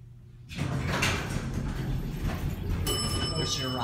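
A Thyssen Ascension 1000 hydraulic elevator door at a Courtyard by Marriott slides with a steady, loud rumbling rush that starts abruptly and continues, a high tone chiming near the end, with people talking over it.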